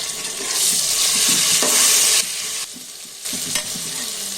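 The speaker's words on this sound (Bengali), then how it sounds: "পেঁয়াজটা একটু লাল লাল হয়ে আসছে" Onions fry in a pan as they turn reddish-brown, a loud, close hiss of sizzling oil that swells, drops off briefly, then returns with light scraping stirs and no voices.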